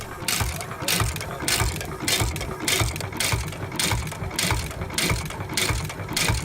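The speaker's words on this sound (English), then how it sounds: "The 6 HP International Titan is a classic stationary engine built by International Harvester Company in the early 1910s." A 6 HP International Titan single-cylinder, four-stroke hit-and-miss stationary engine from the early 1910s chugs steadily, its regular mechanical firing beats repeating about every three-quarters of a second, loud and close with clattering valve and gear noise.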